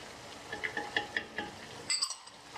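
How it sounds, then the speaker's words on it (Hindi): Spices, salt, turmeric and red chilli powder are mixed into food in a pan for Sindhi biryani: quiet rhythmic scrapes and light clinks of a spoon over a faint sizzle. "और इसे मिक्स करेंगे।"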